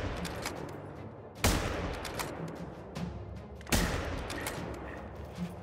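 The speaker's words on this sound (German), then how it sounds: "Aber ich wollte nicht, dass es wegläuft, deswegen habe ich weiter geschossen." Two loud gunshots from a hunting rifle in the video game theHunter: Call of the Wild, about two seconds apart, each a sharp crack with a trailing echo over quiet outdoor ambience.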